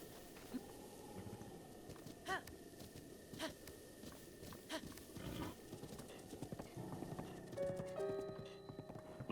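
Horse hooves clip-clopping in the video game The Legend of Zelda: Breath of the Wild, a faint, irregular trot of hoof taps with a few louder hits and light game music entering near the end.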